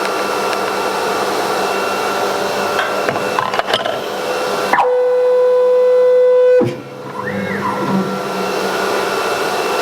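S series CNC router running, a loud steady machine whir with intermittent cutting noise, then a clear sustained motor tone before the cutting sound returns.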